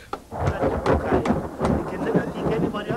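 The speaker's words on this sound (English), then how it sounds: "This is an unusually heavy summer rain for the Highveld." Heavy summer rainstorm on the South African Highveld, with thunder rumbling through a dense, steady roar of rain close by that stays loud throughout.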